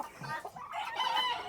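A chicken clucks and murmurs in short, close bursts, with a slightly noisy background.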